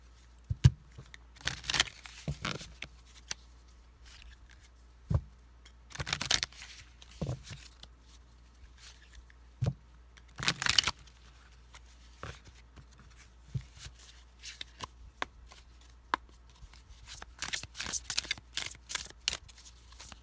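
Tarot cards shuffled by hand during a card reading, bursts of riffling and flicking separated by short pauses, close and fairly quiet, with a quicker flurry near the end.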